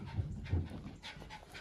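A whippet dog panting softly nearby, a quick rhythmic run of breathy huffs over about a second and a half, faint and alone without speech.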